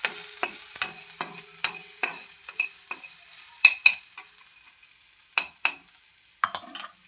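Jowar and ragi flour is stirred and roasted in a pan for upma, with a steady soft sizzle under repeated scraping strokes and sharp spoon clicks against the pan, close and with no speech.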